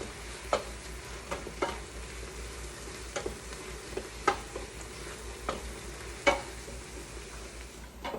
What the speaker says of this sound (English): after you've sauteed your onions and garlic for about 5 minutes